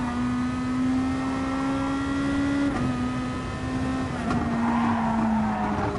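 Racing car in a PS4 game running off into the grass and spinning backwards: a steady engine drone with a sustained tone, broken by brief tire-scrub and skid bursts, loud and close, no talking.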